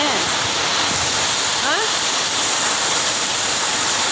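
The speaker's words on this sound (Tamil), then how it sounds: "மழை பெய்யுது" Steady, dense hiss of rain falling outside fills the whole stretch without a break, with a brief faint voice-like sound partway through.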